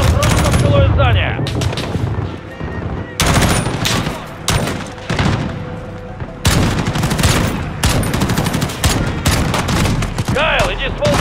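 Rapid bursts of automatic gunfire in Call of Duty: Modern Warfare (2019), loud and close, coming in several long volleys separated by brief pauses.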